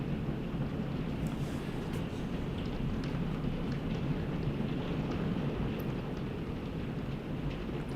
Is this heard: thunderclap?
yes